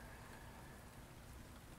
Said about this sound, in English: And on top of it, this goddamn rain.